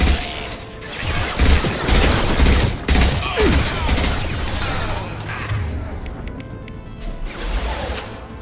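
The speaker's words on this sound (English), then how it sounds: "Firing an impact gun!" Dense, noisy bursts of weapon fire and mechanical clatter as an impact gun fires in the Mass Effect 2 video game, loud and continuous with booming low rumble beneath.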